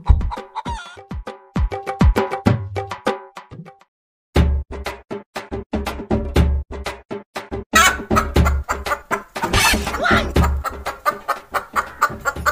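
Chickens cluck in a run of sharp, repeated calls with short gaps and a brief pause, loud and close, occasional louder squawks and knocks breaking in, no speech.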